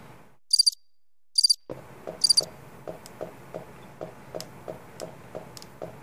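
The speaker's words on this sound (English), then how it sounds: "Part of those crickets is really loud, apparently." Crickets chirp in the Resident Evil Director's Cut game: three loud high-pitched trill bursts, then a steady rhythmic pulsing chirp that repeats about every third of a second, with a low background hum and no talk.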